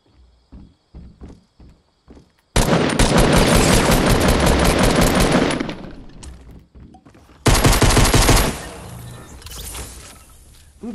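In Fortnite Battle Royale, a few single footstep-like taps give way to two long, dense bursts of close, loud gunfire, the first about three seconds and the second shorter, with quieter in-game sound between them.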